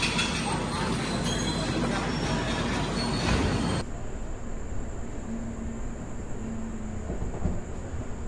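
Yeshwanthpur Duronto Express departing Delhi Sarai Rohilla station during heavy flooding, a loud rumbling train with squealing wheels that drops to a quieter steady roll partway through.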